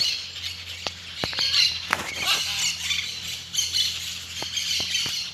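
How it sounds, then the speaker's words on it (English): Parrots at a wildlife rescue centre squawk and screech in harsh, overlapping calls, some close and sharp, others farther off, with scattered clicks amid a busy aviary background. "It's a parrot. There's lots of parrots in there."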